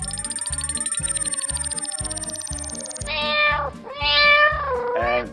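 A cat meow used as a quiz buzzer during an online quiz, a rhythmic electronic beeping pattern followed by a couple of loud, clear meows.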